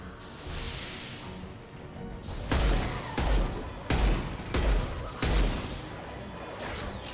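Bursts of gunfire from a weapon in the video game Mass Effect 2, several loud, dense volleys in rapid succession over a steady roar of combat noise.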